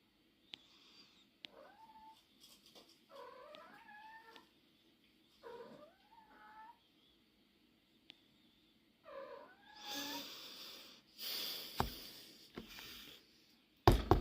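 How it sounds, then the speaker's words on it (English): A cat meows repeatedly in short, rising calls spaced by pauses, close by, followed by louder noisy bursts near the end. "My cat is calling her friends."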